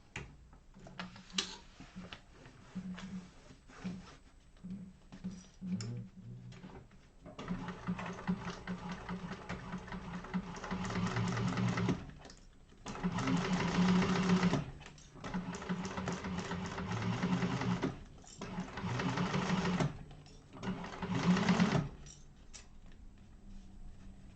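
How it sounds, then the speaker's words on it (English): A sewing machine top stitches a bag in several bursts of rapid, close mechanical stitching, separated by short pauses. "And we're going to top stitch through that."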